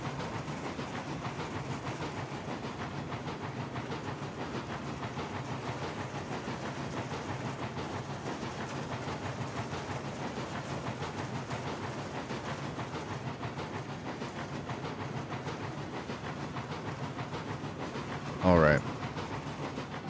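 Cook 280 steam locomotive in the game Railroads Online, working under load with a steady, continuous rumbling chuff and rolling rail noise throughout, and a brief sharp higher-pitched burst near the end.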